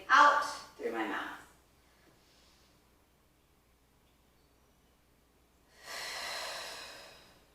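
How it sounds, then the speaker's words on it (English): Slow deliberate breathing during a stretching routine: two quick sharp inhales through the nose, a long pause, then one long steady exhale through the mouth, close and fairly loud. "I'm filling my lungs by breathing in through my nose and then releasing it and emptying out my whole lungs by breathing out through my mouth."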